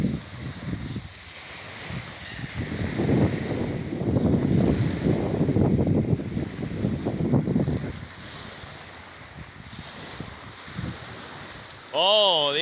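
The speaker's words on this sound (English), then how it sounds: "Listen to this water" Water flows outdoors along a nature trail, a broad rushing wash with gusts of wind buffeting the microphone and someone talking over it in places.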